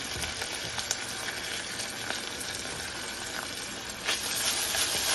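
Constant sizzling and crackling of chopped herbs frying in hot oil while making wheat rava biryani, close and steady, with occasional sharper pops and stirring.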